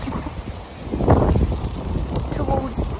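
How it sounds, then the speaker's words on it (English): Gusty wind on a cliff top near Ravenscar and Whitby buffets the microphone with low rumbling bursts, while a faint voice talks underneath. "Good nearly afternoon from a very windy cliff top."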